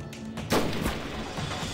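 Gunshots in a period gangster drama set in Chengde, a few sharp reports and thuds in quick succession with echoing tails, fairly close.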